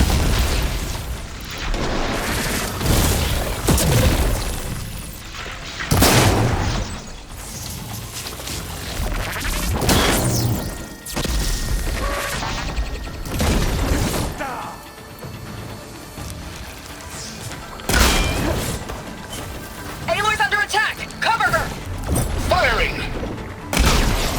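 Supporting gunfire and explosions during a machine battle in Horizon Forbidden West: repeated loud booms and bursts at irregular intervals, mixed with mechanical whirs and game music, with a voice talking between the blasts.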